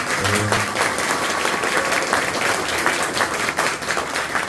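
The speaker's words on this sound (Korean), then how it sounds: "큰 박수 부탁드립니다." A crowd at a human rights award ceremony applauds steadily and loudly throughout, a dense wash of many hands clapping at once.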